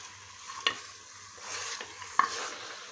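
Mutton being stirred with salt and turmeric in a pot, soft scraping strokes with a couple of sharp spoon knocks over a faint sizzle, close and without talk.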